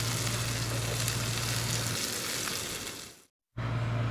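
Diced potatoes sizzle and fry in a pan for jeera aloo sabzi, a steady loud crackle with stirring, broken by a brief moment of near silence before the frying resumes.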